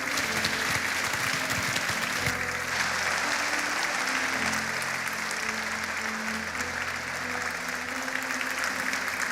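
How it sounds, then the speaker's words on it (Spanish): Church congregation applauding loudly during a Spanish-language service, a dense steady wash of many hands clapping for about nine seconds, with faint voices and music underneath. "Dale un aplauso fuerte, dale un aplauso fuerte."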